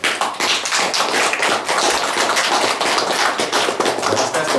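A room full of people applauds winners at an award ceremony, a dense, lively patter of hand claps starting abruptly and continuing evenly at close range.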